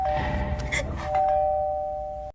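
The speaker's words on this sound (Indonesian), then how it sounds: "Tiba-tiba bel berbunyi" A doorbell rings once with a clear electronic chime, a bright sustained tone that rises into a second note and rings out loudly before cutting off abruptly, heard alone without talk.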